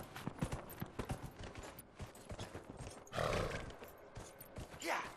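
Horse hooves clip-clopping in the video game Dragon Age Inquisition, a quick steady rhythm of close thuds with a heavier rumbling surge near the end, under some faint talk.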